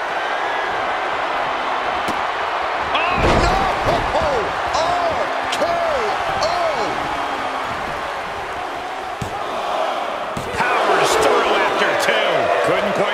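A heavy wrestling slam lands on the mat in WWE 2K24 as Triple H delivers a Pedigree to Seth Rollins, a sharp thud amid arena crowd noise and running commentary.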